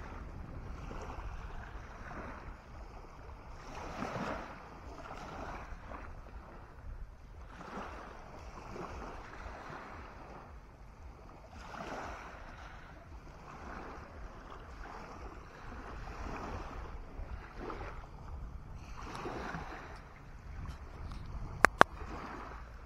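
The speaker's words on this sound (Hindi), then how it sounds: "हर 10-12 लहर में एक लहर झटके से बड़ी आती है।" Ocean waves break and wash ashore on Uddo beach in Goa, a continuous roar of surf with rolling surges every few seconds, mixed with steady wind buffeting the microphone.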